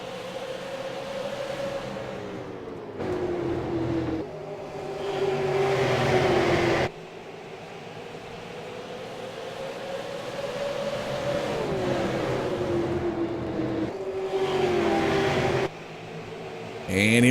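Race cars on the Richmond oval get back on the throttle as the green flag restarts the race, with rising and falling engine whines and revving tones. An announcer talks over the noise throughout.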